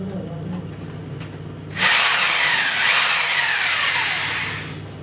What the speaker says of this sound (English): we will use a drill machine